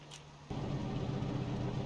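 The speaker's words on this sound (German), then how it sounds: "Gut, Motor anlassen." A WWII Tiger tank engine in a video game turns over and catches, jumping from a quiet idle to a steady low rumble that holds at moderate volume.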